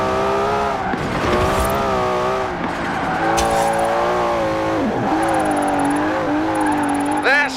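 Loud, sustained engine roar with shifting revs and tyre squeal as a car drifts in Forza Horizon 4, continuous throughout with a voice talking over it.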